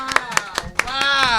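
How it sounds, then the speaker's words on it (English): A few hands clap in a quick, even rhythm of about five sharp claps at a small indoor gathering. A voice cheers and talks over them. "big round of applause to Chris Sandiford"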